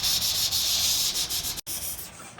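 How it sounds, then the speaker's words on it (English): Continuous abrasive sanding scrapes across a teak safari bar in steady back-and-forth strokes, loud and close, with one brief cut in the sound near the end. "I finished sanding here"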